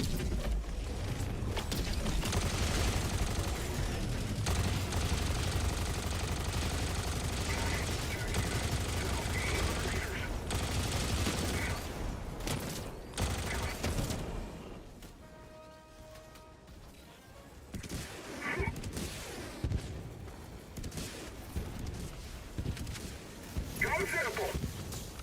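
An orbital strike in Helldivers 2 brings sustained heavy barrage and explosions with crashing debris, a brief lull with mechanical tones, then renewed blasts, loud and dense, with game voices speaking over parts of it.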